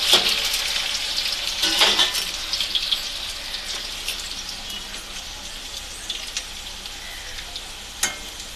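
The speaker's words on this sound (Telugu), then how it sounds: "ఇప్పుడు ఫ్రైస్ అయితే ఎగుతున్నాయి" French fries fry in hot oil, a steady close sizzle and bubbling hiss that fills the pan, with a brief sharper crackle near the end.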